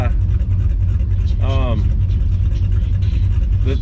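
A 1969 Camaro at an autocross event, its engine running with a steady low rumble close by while a person talks over it.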